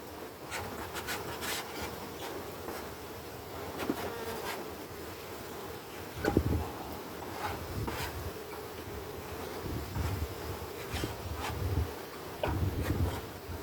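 Honeybees drone steadily and close during a beehive inspection, their dense buzzing broken by occasional scraping and knocks from handling the hive frames.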